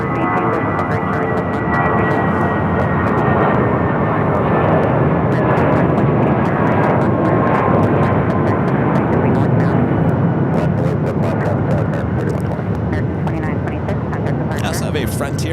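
A large aircraft departs from Phoenix Sky Harbor airport with a continuous broadband jet roar that holds steady throughout, loud and sustained, while talk is heard faintly in the background.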